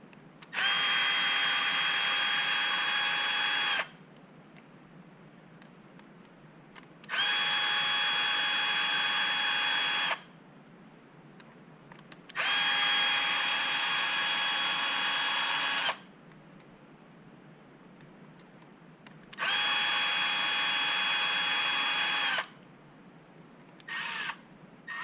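A power driver unscrews titanium aftermarket screws from a Tekno EB48 2.0 RC buggy differential, four loud sustained whirring bursts of a few seconds each separated by quiet pauses, with a brief final blip.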